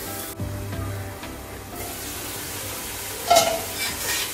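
A masala of roasted tomato, onion and coconut fries in a pan with a steady close sizzle, a short burst of spattering hiss near the end, and no speech.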